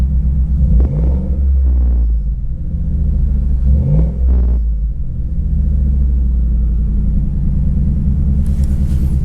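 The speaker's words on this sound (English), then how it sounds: "Do one more quick rev for you guys." Ford F-150 pickup fitted with an MBRP exhaust, heard from inside the cab with a steady deep idle rumble and a couple of quick throttle blips that swell and fall back, the exhaust note loud and close.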